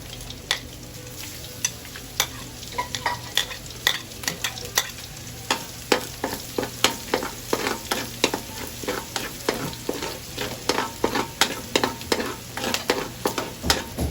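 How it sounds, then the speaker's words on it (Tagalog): Garlic sautéing in a pan, stirred briskly, makes a continuous sizzle punctuated by a long series of rhythmic scraping clacks from a utensil, close and fairly loud with no speech. "Ngayon po ay ilalagay ko na yung bawang"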